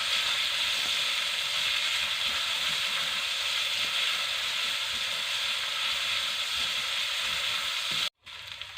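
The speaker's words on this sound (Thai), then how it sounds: "ทียมเหลืองได้ที่แล้วเราก็จะเอาหมูหมูสับนะคะ ลงมาผัด" Minced pork stir-frying in a pan with golden fried garlic, a loud steady sizzle and hiss that runs for several seconds, then cuts off abruptly and resumes more quietly.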